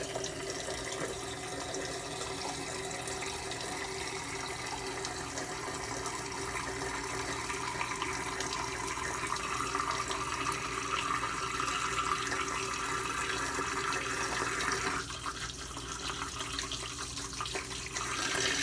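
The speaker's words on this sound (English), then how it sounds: "Let's turn the water on." A bathroom tap runs steadily during a wet shave, the water hissing and splashing into the sink at an even level and shifting slightly near the end, with no talking.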